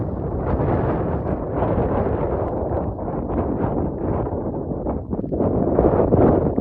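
Strong, steady wind roars across the microphone at the Crystal Ridge Express ski lift in Whistler, BC, a loud, continuous buffeting rush that swells near the end, with no talk.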